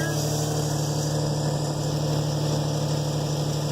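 A Toyota 2JZ engine just started after a timing belt replacement, running at a steady idle with a continuous low drone and constant loudness throughout, with no talk over it.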